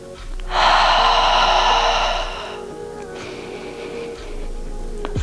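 Slow, deep breathing during a yoga hip and hamstring stretch, with a long audible inhale or exhale followed by a softer breath, heard close up in a quiet room.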